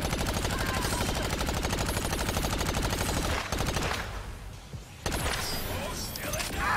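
Rapid automatic gunfire from the Agents of Mayhem video game blazes in a fast, steady stream of shots, loud and close, breaks off briefly with a crash, then resumes, while voices speak over it.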